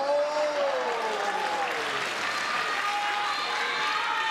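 A Tokyo pro-wrestling crowd at a ZeroOneMax match between Colt Cabana and Steve Corino cheers and applauds steadily, a broad dense roar filling the arena without pause.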